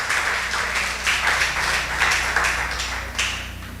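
Congregation at a church service applauding together, a dense, steady wash of clapping that swells in a few waves, close and fairly loud.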